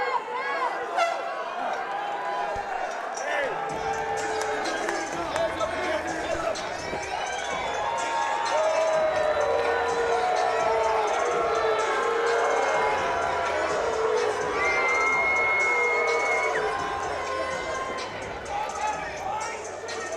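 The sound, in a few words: fight crowd booing the decision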